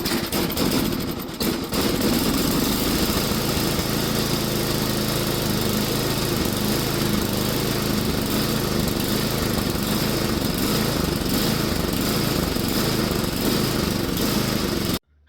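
An old Bolens snowblower engine cold-started on full choke and full throttle, catching after a pull and running steadily at high revs, loud and close, with a sharp popping burst near the start.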